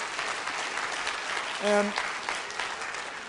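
Keynote audience applause at a skeptics' conference, a broad wash of clapping that is moderately loud and continuous, with a brief spoken word over it.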